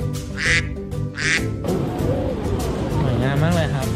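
Two loud quacks from ducks up close, then crowd babble and people talking at an Orlando theme park, with more ducks faintly quacking underneath.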